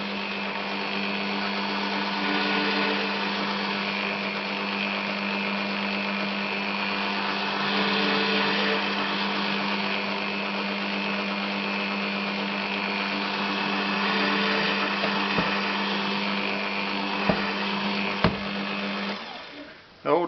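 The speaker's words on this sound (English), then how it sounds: "I've got the drill on its low gear setting that it's quite safe to do." A slow electric drill on low gear drilling 3D-printed nylon parts: a steady, continuous whir at constant low speed for the whole stretch, droning evenly with a few small clicks near the end.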